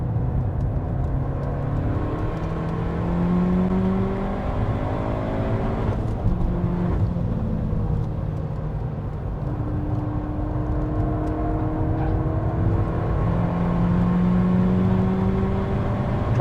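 A Peugeot 308 GTi is driven flat out around Anglesey Circuit, its engine droning and rising and falling steadily through gears and corners, heard continuously from inside the car.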